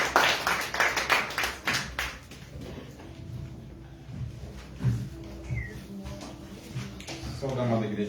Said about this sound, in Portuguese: vamos receber o nosso irmão com palmas